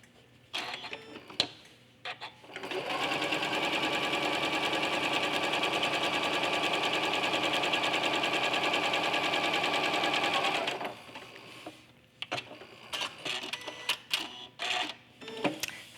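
A sewing machine runs in one steady, continuous burst of stitching through quilt layers fitted with a walking foot, set to a stitch length of 3, with brief handling sounds before and after.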